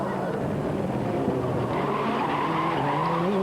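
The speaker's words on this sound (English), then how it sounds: "just dislodging the front bumper as he handbrakes it round the hairpin" A rally car on the slippery 1998 Rally Sanremo, front bumper dislodged, is handbraked round a hairpin, its engine note rising over a sustained roar of skidding tyres that lasts throughout.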